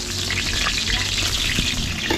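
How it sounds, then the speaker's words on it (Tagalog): Garlic and onion sautéing in oil in a catering kitchen pan, a loud, dense, continuous sizzle heard up close without pause. "gigisa muna tayong bawang sibuyas dito"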